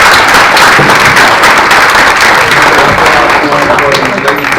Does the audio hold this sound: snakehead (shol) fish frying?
no